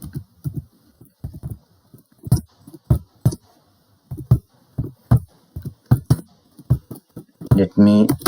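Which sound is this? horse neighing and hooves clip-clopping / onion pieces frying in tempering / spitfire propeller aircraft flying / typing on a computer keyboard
typing on a computer keyboard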